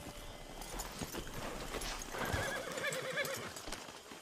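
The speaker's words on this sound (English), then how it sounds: "Then you better get on this horse." A horse in Red Dead Redemption Online clip-clops steadily at a walk and gives a whinny midway, close and clear over a soft game ambience with no talk.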